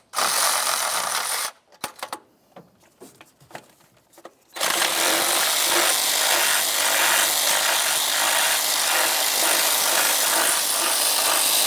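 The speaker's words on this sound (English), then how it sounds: "We'll remove the bolt that's just in front of that rearward bolt." Rapid ratcheting clicks from a wrench removing a bolt on a 2004-2015 Nissan Titan engine, with a brief burst, a pause of scattered ticks, then a long continuous close run of ratchet clatter.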